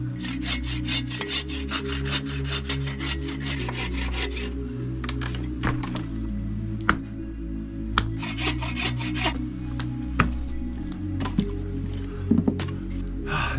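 A hand saw cuts through wet firewood logs in the rain, with steady back-and-forth rasping strokes in bursts and brief pauses between them, close and loud, with occasional knocks.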